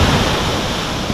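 Rough, agitated sea surf rolling in a steady broadband roar with some wind buffeting the microphone, loud and close throughout with no gaps.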